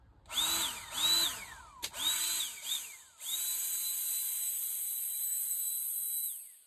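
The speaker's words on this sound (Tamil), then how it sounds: "இன்னைக்கு ப்ளோயர் எடுத்துன்னு வந்திருக்கேன், ஏர் ப்ளோயர் எடுத்துன்னு வந்திருக்கேன்." A handheld electric air blower bought at a Chennai gadget market revs up in several short bursts, then runs steadily with a high whine for about three seconds before stopping, loud and close with no talking.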